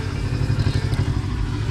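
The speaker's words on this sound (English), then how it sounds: "that's the exhaust note" A 2020 Kawasaki Ninja 650 BS6 motorcycle idling just after start-up, its exhaust giving a throbbing low pulse with slight clatter, close and steady with no talk.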